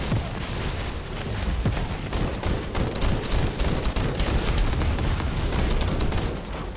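Dense, continuous bursts of gunfire in the video game The First Descendant crackle with electronic zaps and booms, loud and unbroken throughout with no pauses.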